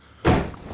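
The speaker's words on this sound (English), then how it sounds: "I'll just shut that door quickly." Door of a Subaru BRZ swung shut in a single solid thud, close by, with a short dull decay afterward.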